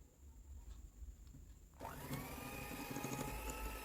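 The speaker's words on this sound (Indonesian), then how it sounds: "Terus dikocok dengan mixer kecepatan rendah saja dan sebentar." A small electric hand mixer switches on partway through and runs steadily at low speed, beating cake batter with condensed milk for a baked sponge cake, a continuous whirring hum after a quiet start.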